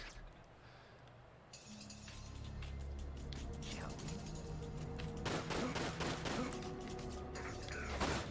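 Video game gunfire, a burst of rapid sharp shots and clanking mechanisms coming in a dense cluster near the end, loud and close, under a voice talking.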